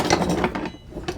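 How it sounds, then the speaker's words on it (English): Metal utensils clatter and clink in a kitchen drawer while a spaghetti spoon is pulled out, a short close rummage of several clanks with no speech. "I'm gonna get my little spaghetti spoon out."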